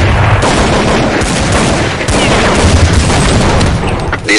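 Dense, sustained video game gunfire crackles throughout a close, loud barrage of rapid shots and bursts, with faint voices briefly underneath.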